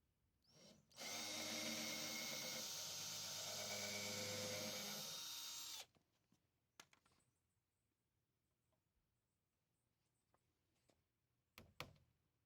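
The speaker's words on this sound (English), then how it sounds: "Pre-drill for the nails to prevent cracks." A power drill bores nail pilot holes into a cedar pallet board, one loud steady whine lasting about five seconds, followed by quiet handling clatter and a few sharp knocks.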